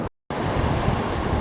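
Wind and ocean waves wash over a beach in a loud, steady rush, broken by a brief dropout of silence near the start before the roar resumes.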